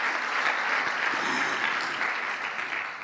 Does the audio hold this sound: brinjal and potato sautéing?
no